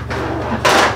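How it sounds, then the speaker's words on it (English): A cabinet drawer slides and shuts once, a short broadband scrape and knock close to the microphone near the end, over a steady low hum with no talking. "Got two drawers."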